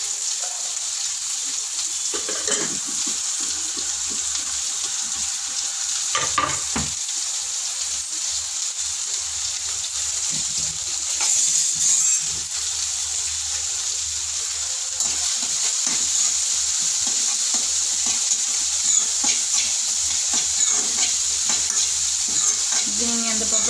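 Chopped onions frying lightly in oil at home, a continuous close sizzle with occasional stirring scrapes and clinks, no talking.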